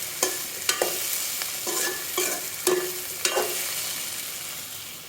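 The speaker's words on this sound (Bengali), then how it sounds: "আগে সব সবজিগুলোকে একটু হালকা ভেজে নিচ্ছি।" Vegetables lightly frying in oil in a pan for a coconut curry, soft sizzle under a series of scraping stirs and spatula knocks spaced every half second or so, fairly quiet and close.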